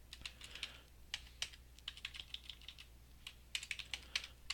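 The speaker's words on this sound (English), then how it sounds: "So I'm going to type my name." Keys clatter on a computer keyboard as a name is typed, quick irregular bursts of faint close taps with short pauses in a quiet room.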